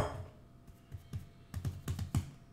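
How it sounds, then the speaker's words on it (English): Milk bread dough is patted by hand on a work surface, a series of soft, dull slaps that come quicker and firmer toward the end. The sound is quiet and close, with no talking. "I need to pat the dough gently into an 8-inch square of even thickness"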